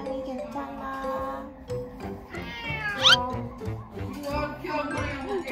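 A cat meows loudly several times, one call rising sharply, while people talk nearby and a faint jingle sounds now and then.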